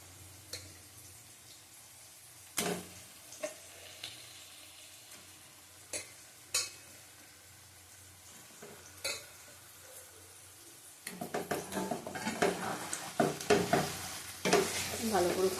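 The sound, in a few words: chicken stirred and frying in spice masala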